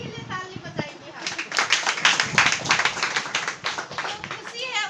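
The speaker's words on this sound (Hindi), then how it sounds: "जो खुश नहीं है उनके लिए ताली बजाएंगे हम।" A church congregation in Gopur village, Assam, claps together in a quick, irregular burst of many hands after a preacher's call, with his voice speaking before and as it fades.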